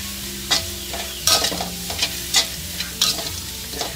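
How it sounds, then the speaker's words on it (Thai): Garlic and a pinch of salt fry in hot oil for Thai radish and minced pork soup, giving a steady close sizzle broken by repeated stirring scrapes in a regular rhythm, with no talking. "ให้ใส่กระเทียมลงไปเกลือเลยค่ะหลังจากที่น้ำมันเราร้อนแล้วนะคะ"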